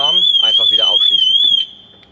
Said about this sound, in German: Die Alarmanlage geht los, weil die Alarmanlage nicht weiß, ist es jetzt hier der mechanische Schlüssel oder ein Schraubenzieher